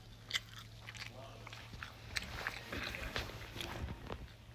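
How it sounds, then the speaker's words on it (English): Soft close-up munching on a piece of bread, faint crunchy bites and chewing over a low steady hum. "You can probably hear my munching."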